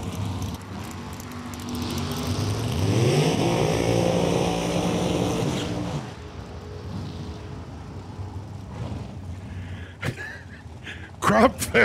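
A comp eliminator dragster, including Bill Rudy's Mosier Race Tech Dragster, launches at Lucas Oil Raceway with an engine roar that climbs steeply in pitch, holds loud for several seconds, then fades into the distance under crowd and track noise.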